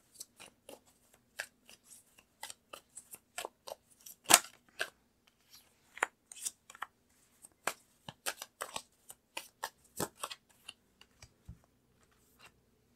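Tarot cards being handled close up, with sparse, crisp snaps, flicks and shuffling rustles in irregular bursts against near silence and no talk.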